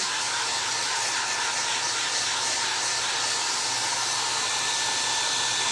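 A heat gun blows a steady, loud rush of hot air over a craft clock made from Dollar Tree boxes, a continuous broadband hiss with a faint low hum, unbroken and alone throughout.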